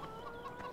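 Chickens cluck in the farming game Farming Simulator 17, a soft, steady run of short clucks near a farmhouse, with no talk over them.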